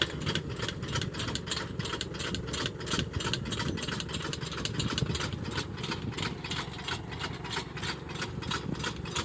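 A rubber-tired farm tractor engine runs steadily at idle during a rainy potato harvest in Italy, a close, continuous mid-pitched drone with a rhythmic rattling pulse and no talk.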